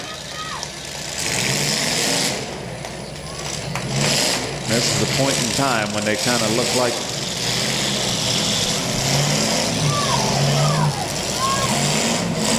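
A demolition derby car at a Portage, Ohio event cranks and sputters as it tries to restart, with rough engine bursts and revving over a noisy crowd and a steady background roar. An announcer talks throughout.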